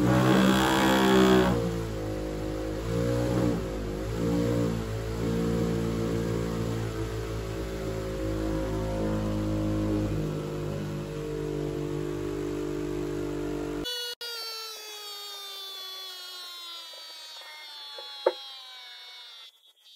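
A small DC motor running on supercapacitor power whirs with a steady tonal hum that shifts as it runs, then cuts away to a thinner, fading whine.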